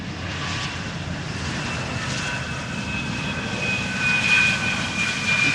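An Embraer 175 jet airliner just after landing on the Polderbaan at Schiphol gives a steady, moderately loud engine rumble with a thin whine that rises slightly toward the end.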